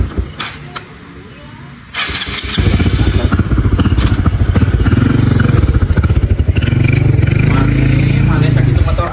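A two-stroke motorcycle engine clatters and catches, then revs steadily and loudly nearby, with voices talking briefly at the start.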